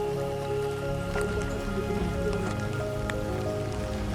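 Steady rain patters down on a mountain trek near Rudranath, Uttarakhand, a dense continuous hiss with scattered close drips and splashes throughout, no voices.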